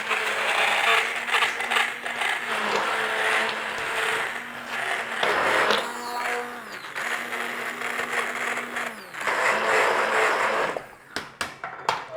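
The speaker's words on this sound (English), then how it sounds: "Bring in a blender, stick blender if you've got one." A stick blender whirs through Brussels sprouts soup in a pot, its motor pitch rising and dipping in several bursts over about eleven seconds, close and moderately loud, ending with a few clicks and knocks.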